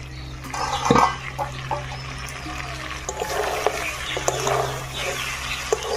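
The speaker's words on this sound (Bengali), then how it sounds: "মাংস সিদ্ধ হয়ে গেছে, অল্প জল দিয়ে দিলাম।" Water poured into a pot of cooking chicken for biryani, a close splashing pour near the start followed by bubbling, trickling liquid and light clatter, no talking.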